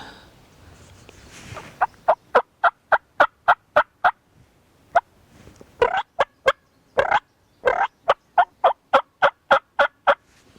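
A wild turkey gobbler calling in a spring field, a rapid series of loud, close gobbling bursts in several volleys with short pauses between them, no talking.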